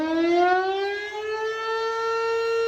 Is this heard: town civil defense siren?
yes